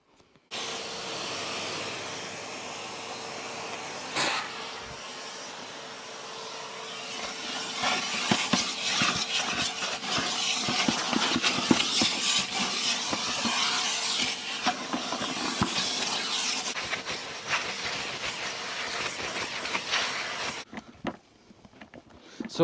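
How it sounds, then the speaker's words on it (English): Numatic Charles CVC370 1000 W wet and dry vacuum cleaner running steadily for about twenty seconds, a loud continuous motor whine and airy rush with rattling bursts in the middle, then cutting off abruptly near the end. "It doesn't have a pump, but it is a wet and dry vac."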